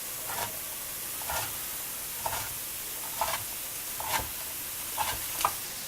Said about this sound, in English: I know it's a non-stick frying pan and I'm using a metal spatula